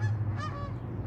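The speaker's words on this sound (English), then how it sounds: "Oh, is that geese?" Geese honking in a short burst, a few nasal calls rising over a steady low hum, moderately close and fairly faint, with no voices.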